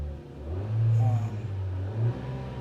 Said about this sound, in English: I do have a little bit of a surge problem with this engine.